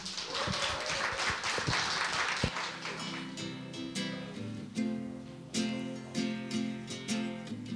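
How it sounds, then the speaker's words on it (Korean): Audience at a book concert applauding to welcome a song performance, scattered clapping at first, then music with clear sustained tones comes in and continues alongside occasional claps. "힘찬 박수로 맞아주시기 바랍니다"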